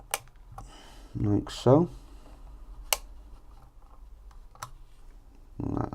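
Snips trimming coil leads on an Asmodus Bunker RDA give a few sharp, close, crisp clicks spaced apart, with a brief spoken remark between them.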